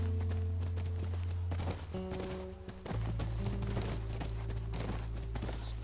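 Steady clip-clop of horse hooves at a walking pace in the video game The Last of Us, under a low droning background hum, fairly close and continuous.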